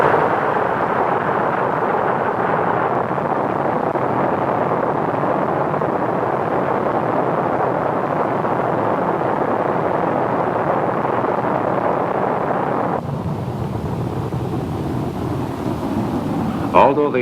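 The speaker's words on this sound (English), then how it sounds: "The Atlas Agena target vehicle was launched from Cape Kennedy on October 25th." Atlas Agena target vehicle lifting off from Cape Kennedy, a loud, steady broadband roar that holds for most of the stretch, then shifts and thins toward the end.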